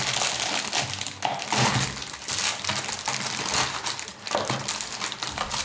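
A plastic Lebkuchen packet, closed with a small plastic clip, crinkles and rustles continuously at close range as it is slid back into its box, with a few sharper crackles along the way.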